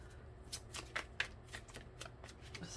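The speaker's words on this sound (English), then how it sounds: "we're going to do one more shuffle here" A deck of tarot cards is riffled and shuffled by hand, with quick papery flutters and a few sharper snaps. The final bridge closes with a louder flick.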